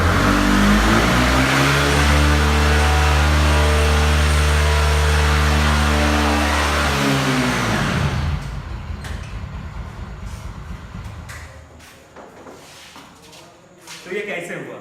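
A two-wheeler engine starts and revs for several seconds, its pitch rising and holding, then it drops away into quieter mechanical clatter and handling noises.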